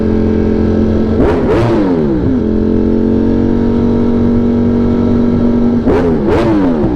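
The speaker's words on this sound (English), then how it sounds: "The depth and the just bassiness of this exhaust are very hard to capture" A loud, deep 200-horsepower motorcycle exhaust rumbles steadily, with two pairs of sharp revs that rise and fall before settling back to a throaty idle.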